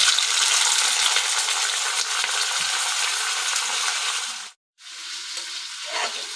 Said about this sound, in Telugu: ఆయిల్ హీట్ అయ్యాక కట్ చేసుకున్న ఆనియన్స్,